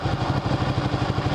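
A sport motorcycle's engine runs loudly during a ride, producing a close, steady, pulsing throb with a rough clattering edge for just over a second, with no voices.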